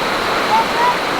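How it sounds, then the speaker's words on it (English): Water runs down into a clear swimming hole after rain, a short, steady rushing wash close by. "all this water flowing down to this beautiful clear hole there"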